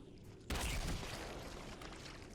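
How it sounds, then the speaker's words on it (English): A Flood carrier form in Halo: CE Anniversary detonates with a sudden loud, booming burst, followed by a lingering noisy rumble as the blast fades. "once you see the carrier forms drop in, go ahead and back up and let them detonate"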